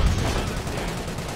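Tank and anti-tank gun exchanging fire in the Company of Heroes video game, a heavy booming blast with rumbling low-end decay, loud and close, followed by battle noise.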